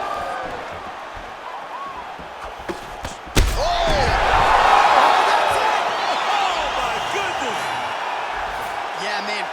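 Strikes land with a sharp thud mid-fight in a UFC 5 video game bout, followed by a swelling roar from the game crowd while a commentator talks over it.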